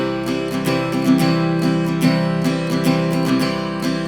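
An acoustic guitar is strummed alone in a fast, steady rhythm of down and up strokes, with chords ringing clearly and close.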